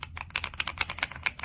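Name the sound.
typing on Kisnt KN85 wireless mechanical gaming keyboard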